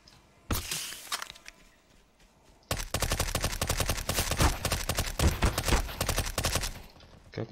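Rapid automatic gunfire in Counter-Strike: Global Offensive's Danger Zone mode, loud and dense, with a short burst early, a pause, then several seconds of sustained fire.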